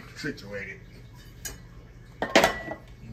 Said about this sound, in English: Get my other pot here off the stove.